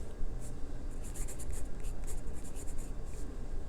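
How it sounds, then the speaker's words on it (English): A Staedtler H pencil scratches across paper in short bursts of strokes, a quiet close-up rhythmic scribbling with brief pauses and no voices. "So I'm just going to write down that this is my Stettler"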